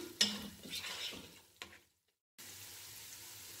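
Chicken being fried again in a pan for macaroni pasta: a soft sizzle with a few spatula scrapes and knocks, cut by a brief silent gap, then a quieter steady hiss.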